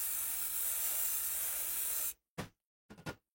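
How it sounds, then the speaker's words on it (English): Contact cleaner aerosol can sprays a continuous loud hiss into a computer module for about two seconds, then stops, followed by two short sharp bursts. "I will spray some contact cleaner in the module again."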